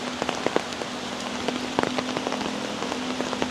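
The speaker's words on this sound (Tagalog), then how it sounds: "Hindi pa rin naghuhupa yung ulan." Heavy typhoon rain pouring steadily onto surfaces, a dense continuous patter with scattered sharper drips, close and unbroken throughout.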